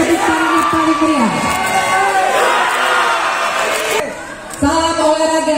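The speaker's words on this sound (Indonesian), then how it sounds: "Mari kita berikan tepuk tangan yang paling meriah." A crowd welcoming Paris 2024 Olympic athletes cheers and shouts loudly, with overlapping excited voices and whoops that dip briefly before surging back.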